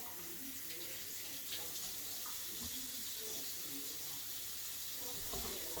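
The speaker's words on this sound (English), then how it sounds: "I'll take the meat, rinse it off in the sink." Tap water runs steadily into a kitchen sink while raw steak is rinsed under it, a continuous soft hiss and splash at close range with faint shifting splatters as the meat moves through the stream.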